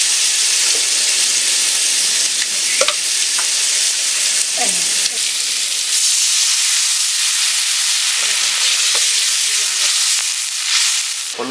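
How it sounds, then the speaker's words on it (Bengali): Water poured into pumpkin in a hot pan hisses and sizzles loudly and steadily, with faint stirring clinks and scrapes under the continuous steam. "আমি এখন কুমড়োর ভিতর জল দিয়ে দিচ্ছি।"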